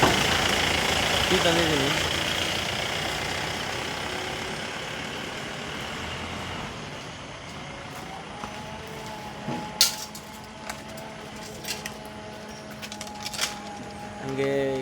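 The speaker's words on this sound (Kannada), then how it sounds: "ಇದೇ ನನ್ನ ಗಾಡಿ. ಈ ಗಾಡೀಲಿ ಏನಪ್ಪ ವಿಚಾರ ಅಂತಂದರೆ, ಸ್ಟಾರ್ಟ್ ಆಗುತ್ತೆ ನೋಡಬೇಕು." An old vehicle engine running, a loud continuous rumbling drone that settles into a steadier idle with a rising tone, with clicks and knocks later on; someone speaks briefly.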